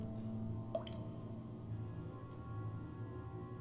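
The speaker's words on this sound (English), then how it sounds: "The dripping sound echoed inside of him." Water drips in the video game a*part*ment, with one or two distinct plinking drops sounding faintly over a steady low hum of game ambience.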